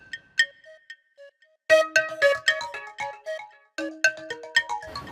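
A phone ringtone plays while a call goes out to a mechanic in a TV drama scene: a bright, melodic electronic tune of repeating notes in short phrases, fairly clear and alone.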